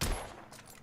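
Gunshot in the video game The Order: 1886, a single sharp muffled blast that decays quickly into a short fading tail.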